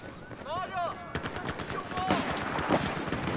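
Gunfire from Battlefield 4 crackles in scattered, irregular shots over steady game ambience, with people talking throughout.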